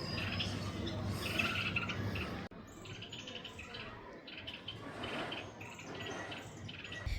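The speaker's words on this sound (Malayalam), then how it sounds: "കോഴിക്കുട്ടികളെ സൗണ്ടില്ലേ" Baby chicks peep in a steady stream of high chirps, fairly close and loud, with a brief dip partway through before the chirping carries on.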